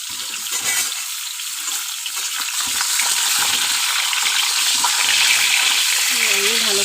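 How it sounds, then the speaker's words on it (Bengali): Stuffed pointed gourds filled with chicken dolma fry in a pan with a steady, loud, close sizzle that grows slightly stronger toward the end, while a voice speaks briefly over it. "আমি ভালো করে ভেজে নেব।"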